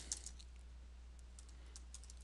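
Fingers type VBA code on a computer keyboard, giving faint scattered key clicks over a low steady hum.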